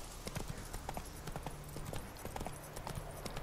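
A horse trots in The Witcher 3 on Death March difficulty, its hooves beating a steady, rhythmic clip-clop over a constant ambient game background.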